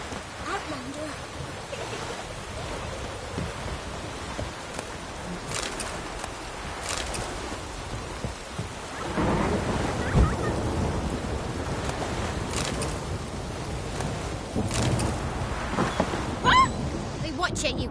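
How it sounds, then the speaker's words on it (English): A thunderstorm with heavy rain rolls through a village in The Witcher 3 video game, a dense roaring wash of downpour with rumbling swells, and a voice talking over it. "A storm, damn it."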